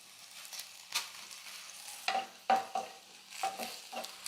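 Garlic and ginger are sautéed in a pan, a soft sizzle under repeated clinks and scrapes of a spatula stirring at an irregular pace.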